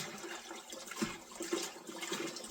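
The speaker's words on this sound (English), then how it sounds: "I put a gallon of water in the bucket" Water is poured into a 5-gallon bucket, a steady rushing splash with small gurgling surges, fairly quiet and without any voices.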